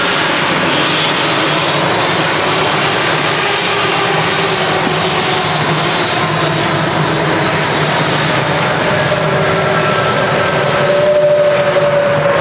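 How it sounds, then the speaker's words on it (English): An airliner with Pratt & Whitney engines taxis slowly at Manchester Airport, a loud, steady jet roar and whine holding throughout at close range, the pitch rising slightly near the end, with no talk. "Love the sound of them Pratt & Whitneys"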